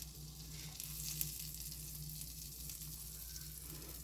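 Fish with butter and garlic sizzles on a grill as a steady, moderately quiet hiss with faint crackles over a low outdoor hum.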